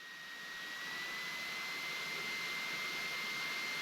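Cessna 172 engine spooling up during a takeoff roll on the runway, a steady loud drone with a constant high whine that builds slightly over the first second and then holds.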